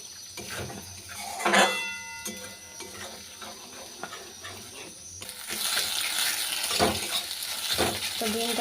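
Beaten egg fries in a pan as an omelette, with utensil clinks and scrapes over a soft sizzle that grows louder and denser in the second half, and a voice talks intermittently.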